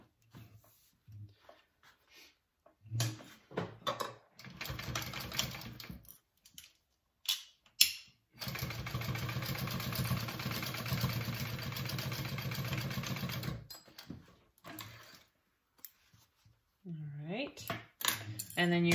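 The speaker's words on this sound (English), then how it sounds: "we are going to sew that at 3/8 inch seam allowance" A sewing machine stitches a shoulder bag seam at a 3/8 inch allowance, running steadily for about five seconds at moderate loudness, with brief handling clicks and some talk before and after.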